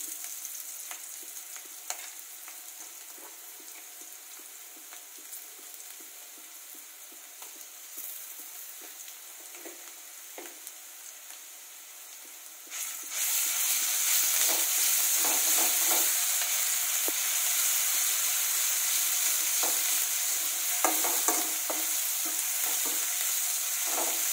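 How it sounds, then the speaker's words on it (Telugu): Onions frying with ginger garlic paste in a pan for a crispy okra fry, a quiet steady sizzle with occasional stirring scrapes that swells into a louder, denser hiss partway through. "ఆనియన్స్ బాగా బ్రౌనిష్గా అయ్యేంత వరకు ఫ్రై చేసుకోవాలి"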